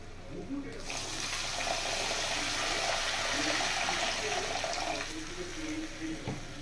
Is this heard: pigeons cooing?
no